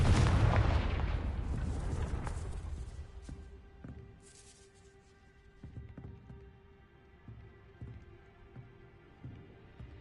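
A Confringo fire spell blasts in Hogwarts Legacy with a deep booming explosion at the start, its rumble fading over a couple of seconds, followed by quieter game ambience with faint scattered knocks.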